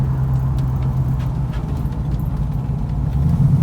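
A 1973 Ford Mach 1 cruising along a road, its engine a steady low drone with a continuous rumble that stays loud and even throughout, without any speech.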